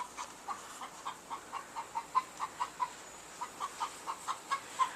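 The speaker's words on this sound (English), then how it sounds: "I hear a hen hunting her babies" A hen clucks in a steady run of short, evenly spaced calls while hunting for her lost chicks on a back lawn near a pool, the clucks moderately close and clear over a quiet outdoor background.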